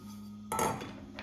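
A whisk and a small bowl are set down on a worktop while making homemade hair conditioner, giving a single close clatter of kitchenware on the counter, with faint handling sounds after.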